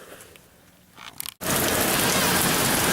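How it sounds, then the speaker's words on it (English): Heavy rain suddenly starts pouring onto a metal roof, jumping from near-quiet to a loud, dense, steady roar that fills the rest of the moment without a break. "It's raining. It's loud because I have a metal roof. Just started pouring a few seconds ago."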